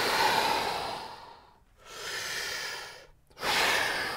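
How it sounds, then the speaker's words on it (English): Three long, deep breaths taken while stretching during a workout, each a loud, airy rush of air separated by short pauses, close to the listener with no talking. "Take a few deep breaths."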